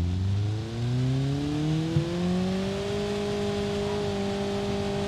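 A rotary-engined Mazda RX-8 driving in BeamNG with no gear changes, its smooth engine whine climbing steadily in pitch and then holding high, loud and continuous, with one small knock partway through.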